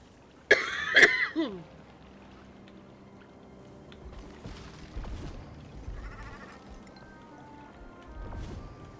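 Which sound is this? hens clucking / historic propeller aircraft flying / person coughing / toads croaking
person coughing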